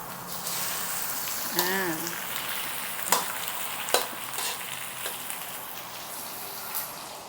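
Shrimp tipped into a hot pan with golden aromatics for a Thai chili stir-fry, hissing in a steady broadband sizzle with a few sharp clatters and stirring scrapes, and a brief voice near the start.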